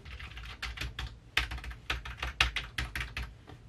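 Steady typing on a tilted computer keyboard, a quick run of clacking keystrokes with a few harder taps standing out, close and alone with no voices.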